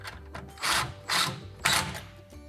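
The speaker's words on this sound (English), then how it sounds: "This kind of a ratchet impact driver, so as it starts clutching is about where you need to be" A ratchet impact driver fires in three short bursts of rapid hammering clatter, each under a second with brief pauses between, as it drives bracket screws to fasten a closet rail; the sound is close and moderately loud.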